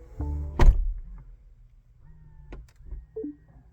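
Doors of a BMW with iDrive 8.5 closing on a voice command: a solid thunk near the start, then quieter motor whirs and soft clunks over the next few seconds, close by with a brief electronic chime.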